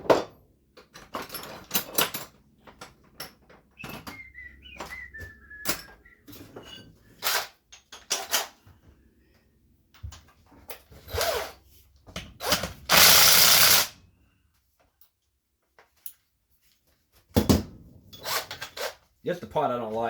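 An impact wrench spins out 14 mm transmission bolts during a 2005 Acura TL teardown, loud ratcheting bursts of a second or so breaking up a mostly quiet stretch, with someone talking between them.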